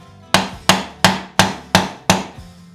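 A hammer taps a fret into the neck of an electric guitar kit, six sharp, evenly spaced knocks on wood, loud and close, with no talking.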